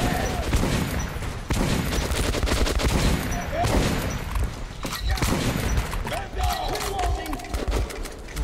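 Enemies fire in dense, rapid bursts in the first-person shooter Metro 2033 Redux, with overlapping shots, booms and crowd-like shouting filling the whole stretch loudly and without pause.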